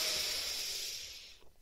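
One long, deep inhalation, a soft airy hiss that fades gradually and stops abruptly.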